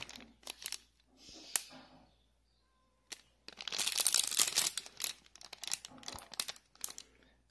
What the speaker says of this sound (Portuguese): Tirar da sacola, né? Desse saquinho dele.